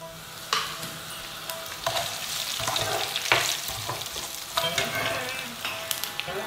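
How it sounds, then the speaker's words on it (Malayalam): Cumin seeds and dried red chillies sizzle and crackle in hot oil for a Kerala sadya-style koottu curry, a steady loud frying hiss broken by sharp spoon-scraping stirs against the pan. "1-2 teaspoon ജീരകം ഞാൻ ഇതിലേക്ക് വറുത്ത് ചേർക്കുകയാണ്"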